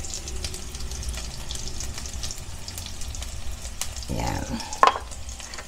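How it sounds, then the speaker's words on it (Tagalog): Garlic and onions sauté in a pan with steady frying crackle and stirring, a brief scraping burst near the end, while a voice speaks briefly. "Hintayin natin pumula yung ating bawang at sibuyas."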